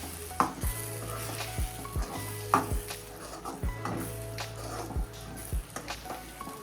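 A spoon stirs vagharelo rotlo, crumbled millet flatbread cooking in buttermilk in a pan, with rhythmic scraping strokes over a continuous close sizzle.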